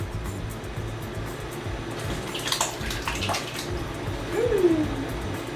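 Chicken cooking liquid topped up with tomato stock is poured into a pot of red beans, giving a steady close splashing rush with a few brighter clinks.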